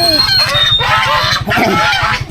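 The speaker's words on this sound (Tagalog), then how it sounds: "Ay! May pato!" Several loud, nasal honking quacks from ducks in quick succession, close by, over a low rhythmic motor hum.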